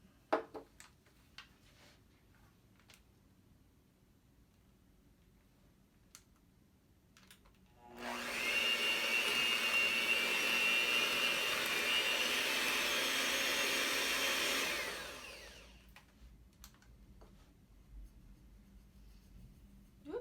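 An electric mixer whirs loudly and steadily for about seven seconds through cheesecake batter with sugar and cornstarch, preceded and followed by quiet kitchen clicks and handling noises.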